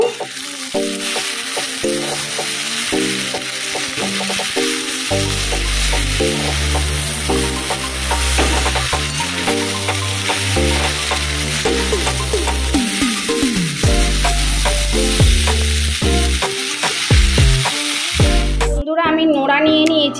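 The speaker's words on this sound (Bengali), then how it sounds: "এবার আমি নাড়িয়ে নেব।" Vegetable chowmein, made without onion or egg, fries and is stirred in a pan, giving a steady sizzling hiss that sits under prominent background music throughout.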